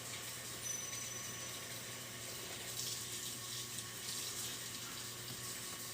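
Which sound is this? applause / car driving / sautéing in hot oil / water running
water running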